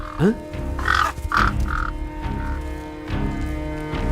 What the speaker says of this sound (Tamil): வெறும் பறவைதான்.